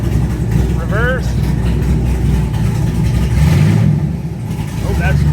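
A 1968 Camaro with an LS engine pulls off on its first test drive, a mid-pitched engine rumbling and revving steadily near the listener, with people talking over it.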